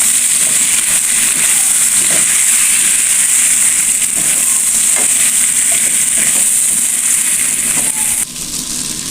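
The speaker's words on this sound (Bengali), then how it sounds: "আমার মশলা এবং আলুটা কষানো হয়ে গিয়েছে।" Spices and yam frying in a hot pan for a fish and yam dish, giving off a loud, continuous sizzle with faint scraping from stirring throughout.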